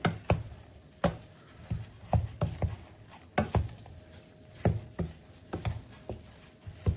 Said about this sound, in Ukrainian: Тепер все гарно перемішуємо.